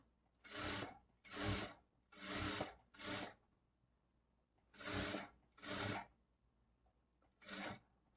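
A sewing machine stitches a lined blouse in seven separate bursts of rapid whirring. Each burst lasts about half a second, with short quiet pauses between them. The machine sounds close and clear.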